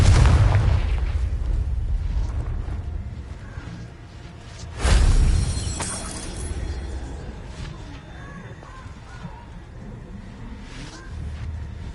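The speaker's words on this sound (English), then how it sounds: "These rocks have seen better days. Confringo!" A Confringo fire spell blasts rocks in the Hogwarts Legacy video game: a single loud, booming explosion with a whooshing burst near the middle, over a continuous rumbling game soundscape.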